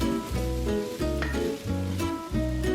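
Potatoes and wieners frying in a pan while being stirred, with rhythmic scraping strokes that ring out in tonal squeaks about every half second over a low sizzle.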